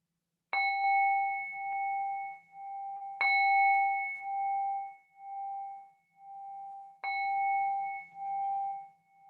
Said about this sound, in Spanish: con el sonido de la campana, puedes ir abriendo los ojos